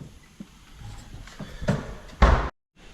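Door card on a 2015-2018 Ford Ranger pried off with a trim tool: a few soft plastic clicks and pops building to a sharp crack as the panel releases, then a brief silence.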